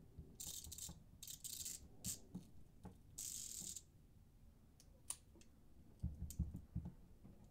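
A Snap-on ratcheting screwdriver spun in short bursts gives quick, dry clicking with rattly ratchet-and-pawl bursts. The bursts are close and fairly faint, separated by brief pauses, and a few heavier knocks come near the end.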